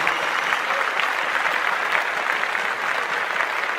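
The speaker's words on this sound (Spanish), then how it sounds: "quiero pedir un fuerte, pero muy fuerte aplauso para el maestro Lito Vitale y todos sus músicos" A church congregation at Mass applauds maestro Lito Vitale and his musicians, a dense, even wash of clapping with no break.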